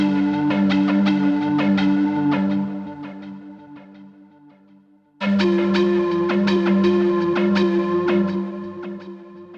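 Melodic VHS Flute synth sample from Arturia Analog Lab, a breathy, bell-like tone playing a repeated melody with rich harmonics; one phrase trails off, then a second phrase enters abruptly at full level, with no talking.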